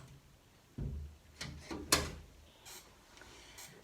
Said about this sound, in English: I just want to close my door.